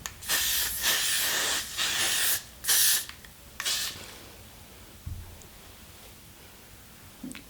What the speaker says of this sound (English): I'm just going to give that a nice little blip